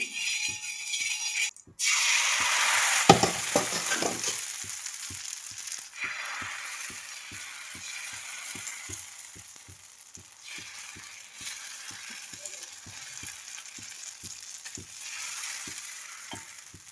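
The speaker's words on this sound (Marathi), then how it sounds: "तव्यावरती हे तूप टाकलेले डोसा चिटकू नये म्हणून" Steady sizzling of dosa batter frying on a hot griddle greased with ghee, with a sharp hiss near the start settling into continuous crackle, no voices.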